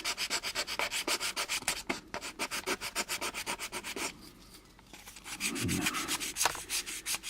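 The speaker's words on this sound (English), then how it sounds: "I'm going to use my cross-sanding method here." A small plastic model kit part is sanded by hand with fine sandpaper in quick back-and-forth strokes, making close, rhythmic scratchy rasps with a brief pause in the middle.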